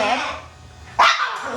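A reactive dog being groomed barks and wails, with one sharp loud yelp standing out midway, while a person talks over the commotion.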